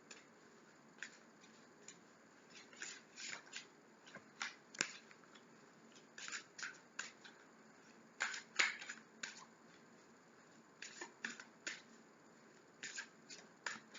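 Oracle cards being shuffled and cut by hand: soft, quiet flicks and riffles in irregular clusters over a long stretch, close and faint, with no voice.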